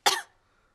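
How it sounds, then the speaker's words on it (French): A child gives a single short cough, close and fairly loud, quickly fading into quiet, in a French-dubbed cartoon. "Mais regardez ce qui se passe quand je tousse."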